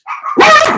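A dog gives a single loud, close bark that rises out of a short whine or yip, sharp and sudden against a quiet room.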